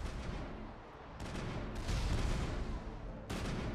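Heavy weapons fire in Mass Effect 1, booming blasts and rattling shots in a continuous loud barrage with sharp new bursts every second or so, no voices.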